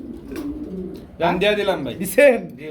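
A pair of silver Sirazi pigeons coo in low, throaty bursts, close by and loud, with a softer murmur first and then two stronger coos; a voice talks around them.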